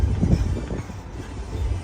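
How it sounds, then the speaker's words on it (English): A Disneyland tram approaches with a low rumbling roll and wind-like noise, uneven thumps rising and falling at moderate loudness, with no one speaking. "As this tram is approaching, please remain seated with those doors closed until the tram has come to a full and complete stop."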